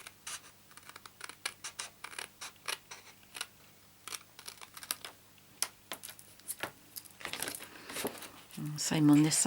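Small scissors snipping out a little paper piece for a stamped recipe box craft, a run of quick, crisp cuts and crinkles close by with some soft talking, ending in a louder rustle.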